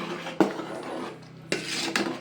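A spoon scrapes and clanks against a cooking pot while mushroom biryani is stirred, with three sharp metallic knocks spaced out among softer rasping scrapes, close and moderately quiet.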